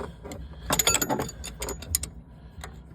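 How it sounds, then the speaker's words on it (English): A 1/2 inch wrench works a snub bolt on a locked-up Bobcat 200 Air Pak diesel welder compressor, giving close, irregular metallic clicks and ratcheting clanks in short bursts. "Grab our 1/2 inch wrench on the snub bolt."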